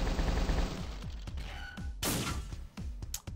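Tank cannon shots in the turn-based RPG Epic Battle Fantasy 4: a loud burst of repeated gunfire with heavy thumps, several rapid blasts in quick succession over game music, no talk.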